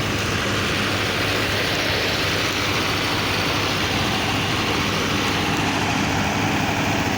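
A wheat threshing machine coupled to a tractor runs continuously, a loud dense roar of engine and whirring, rattling machinery without pause or change, with no voices.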